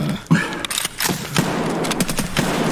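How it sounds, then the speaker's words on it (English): Rapid gunfire from the Escape From Tarkov shooter, a dense burst of shots and thuds in a firefight, loud and continuous for under three seconds, with a player's voice talking over parts of it. "How many shots did that man take?"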